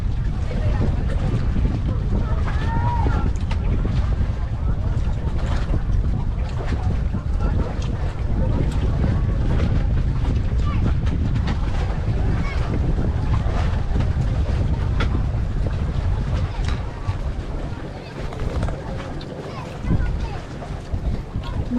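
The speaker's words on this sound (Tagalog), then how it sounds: "Ganda po ng hangin dito." Strong wind buffets a boat off Bantayan, Cordova, Cebu, a constant low roar of wind noise and water rushing steadily throughout, easing briefly near the end, with voices faintly mixed in.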